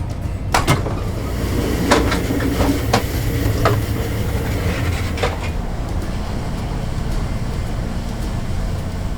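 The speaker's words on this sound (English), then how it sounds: "I just hopped off my train here in Chatsworth" An Amtrak passenger train rumbles steadily from inside a carriage, with scattered clicks and knocks early on over the constant roar.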